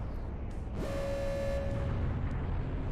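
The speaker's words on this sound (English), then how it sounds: "I don't really know how to put into perspective how big that explosion actually was" A weapon blast in Halo Reach: a sudden burst with a rumbling low roar and a sustained tonal ring lasting under a second, then a fading rumble, fairly quiet overall.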